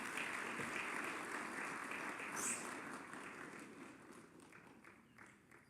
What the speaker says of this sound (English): Another round of applause for Professor Michael Chege.